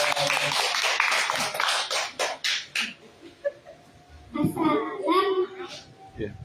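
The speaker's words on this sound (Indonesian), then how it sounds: "Tepuk tangan buat Syafira" Children at a school religious speech contest marking the Prophet's birthday clap loudly for about three seconds, the applause breaking up into scattered claps before children's voices take over.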